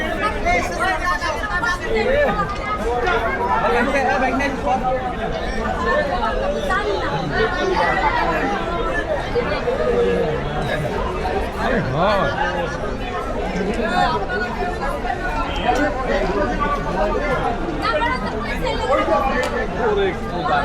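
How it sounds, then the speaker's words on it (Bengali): Dense crowd chatter fills the Dhaka Airport train station at night, a continuous babble of many overlapping voices close around, steady and busy throughout. "তো মানুষের ভিড়, এখানে প্রচুর পরিমাণ ভিড়।"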